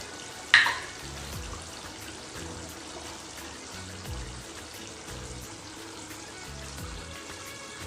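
Garam masala and other spices fry in a little ghee for an echor kalia, a soft steady sizzle with a sharp clink of a utensil early on and gentle stirring throughout.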